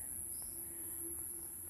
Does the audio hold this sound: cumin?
no